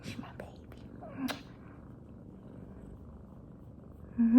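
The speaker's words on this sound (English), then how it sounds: "You're just a little purr box, aren't you?" A soft, low, continuous purr runs throughout, with a few faint clicks and a brief whisper-like sound.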